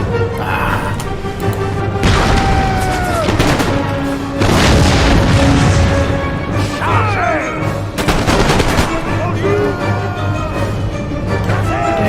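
Howitzer artillery and musket volleys in an Empire: Total War battle, loud booming blasts and crackling gunfire piling up continuously with whistling shells and a dense roar throughout.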